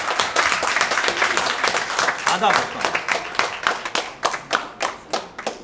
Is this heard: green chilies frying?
no